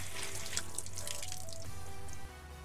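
Water running and dripping off a car panel, one half coated with Topcoat F11 and the other half bare base; a steady close trickle and faucet-like flow with light splashes, dropping slightly in level near the end, no talking.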